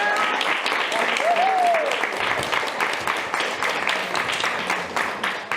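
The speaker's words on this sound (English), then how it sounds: "Give her a big round of applause." Applause breaks out for a woman at a real estate seminar, a full crowd clapping with a brief whoop or cheer early on, then gradually thinning and fading toward the close.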